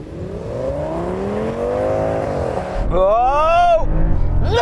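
Audi S8 cars launch in a drag race, engines droning and rising in pitch, a drop and climb at a gear change, then a higher, louder surge of revving close by.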